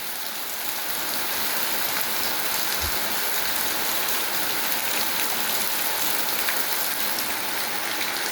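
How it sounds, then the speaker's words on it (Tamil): Steady rain pours down in a dense, even hiss of drops on surfaces that never lets up. It stays loud and continuous throughout with no voices, apart from one brief dull knock partway through. "குளிர்ச்சியடையணும்னா மழை பெய்யும்."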